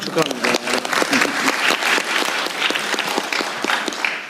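An audience at a Korean event honoring a Seoul Science High School senior who won first place at the International Mathematical Olympiad breaks into loud, dense applause. Clapping continues for several seconds and a voice speaks over it.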